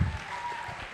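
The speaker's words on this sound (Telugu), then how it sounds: "క్లాప్స్ కొట్టి వాళ్ళకి క్లాప్స్." Audience applause from a crowd, a short burst of clapping that is fairly faint and steady, with a trace of voice underneath.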